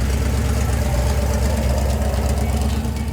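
A lifted purple Plymouth gasser's high-horsepower engine idles steadily up close, a continuous loud rumble with no voices over it.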